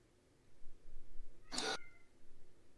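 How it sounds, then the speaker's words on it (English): A pet cat lets out a single brief, loud scream, harsh and strained, rising out of a quiet room. "Your cat is screaming."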